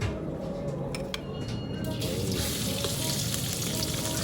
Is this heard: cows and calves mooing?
no